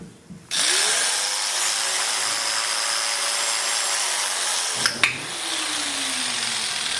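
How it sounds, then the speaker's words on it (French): Electric clippers switch on beside a horse and run with a steady, close, buzzing hum. There is a brief knock partway through, and the motor pitch then shifts slightly. "je vais poser la tondeuse pour qu'il sente les vibrations"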